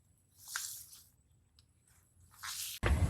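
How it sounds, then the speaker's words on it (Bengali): Chhana cheese for rasgulla is kneaded and mashed by hand, giving a few soft wet squishing presses with quiet gaps between them and a louder rustle at the end. "এবার সম্পূর্ণ ছানাটা আমি ভালো করে মথে নেব, হাত দিয়ে চটকে চটকে একদম মিহি করে মথে নেব"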